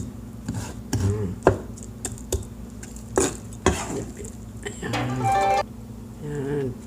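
Eggplant strips being stirred and folded into an egg batter for tortang talong with minced pork, giving soft wet clicks and scrapes of a utensil against a bowl, intermittent and close, with a voice talking in between.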